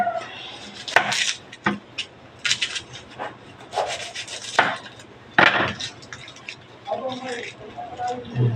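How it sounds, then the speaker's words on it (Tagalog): Someone cuts white onion on a wooden cutting board for chicken sisig, giving irregular knife strokes and rubbing scrapes, some sharp and some dull, while a person talks throughout. "Parang maghiwa na po kong sibuyas."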